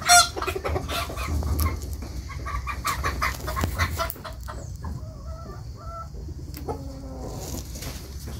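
Busy chickens clucking and squawking close by, with a rooster's louder calls standing out among the flock.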